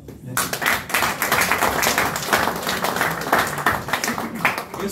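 Guests at an engagement party break into lively applause after a speech, a dense run of close claps lasting several seconds with some voices underneath.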